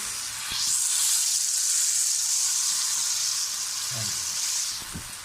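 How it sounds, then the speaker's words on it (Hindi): Lentils (dal) frying in a pan for a chicken vegetable achari, giving a steady, fairly loud sizzling hiss for most of the clip, with a few soft knocks of the utensil near the end. "दालों को भूनते हुए हमें तकरीबन 2 मिनट हो गए हैं।"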